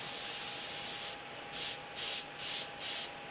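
An airbrush sprays paint in five short, loud bursts, each about a third of a second long, separated by brief pauses. The passes follow a steady airy hiss, and a faint constant tone runs underneath.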